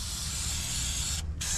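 Rustproofing spray hissing steadily onto a Honda Element's control arm mount, a close, continuous aerosol rush with a brief pause near the end before resuming.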